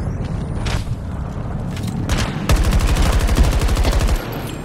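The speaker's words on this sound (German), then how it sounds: "Oh Gott, ich hab daneben geballert." Gunfire in Battlefield 2042 on PS5: a scattered opening followed by a rapid, steady automatic burst lasting over a second, loud and close, fading into ambient battle noise.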